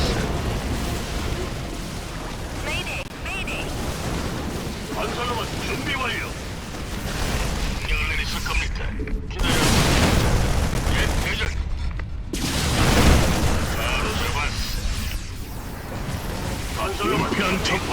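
Airstrike explosions boom in StarCraft II co-op as Raynor. The blasts are dense, rumbling and continuous, with a surge in the middle, heavy mechanical battle noise and voices mixed in.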